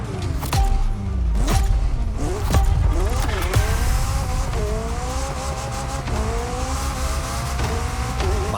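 A Triumph car's engine revs and sweeps through gears in The Crew Motorfest racing game, loud and near, with tire squeal, rising and falling pitch and a voice talking over the driving.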